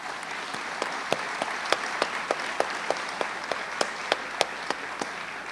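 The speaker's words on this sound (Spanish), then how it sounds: "Permítannos con todos hacer un fuerte aplauso en homenaje a ustedes." A small audience at a national assembly panel of municipal ombudsman offices claps in homage, giving scattered, distinct hand claps at a moderate distance that stay fairly quiet and thin throughout, with no voices.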